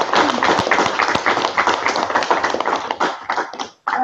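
A room audience claps through a round of applause, dense and steady clapping up close before it thins and stops abruptly near the end.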